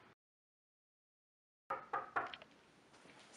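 Someone knocks on a door: three quick, faint raps after a stretch of silence, followed by low room noise.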